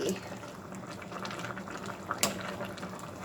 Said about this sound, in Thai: เดี๋ยวเดือดสักครู่ก็ปิดเตาได้เลยค่ะ